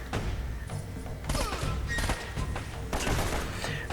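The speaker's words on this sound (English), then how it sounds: "I still find shooting those guys in the back with the grenade launcher absolutely hilarious" Repeated grenade launcher shots and blasts in the video game Uncharted, a busy run of thumping reports and booming explosions with scattered gunfire, loud and close throughout.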